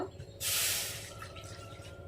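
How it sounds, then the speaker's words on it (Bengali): Water poured from a bowl into a kadai, a loud rushing splash lasting under a second, then fading into faint dripping and trickling. "এই কড়াইতে এই বাটি মেপে আমি এক বাটি জল দিয়ে দেব"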